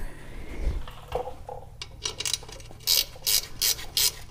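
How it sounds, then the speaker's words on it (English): Ratcheting wrench working the four wheel bearing nuts on a 1996 Toyota Tacoma, with a few slower clicks early on giving way to bursts of quick, bright ratchet clicking close by, no talk. "my ratcheting wrench"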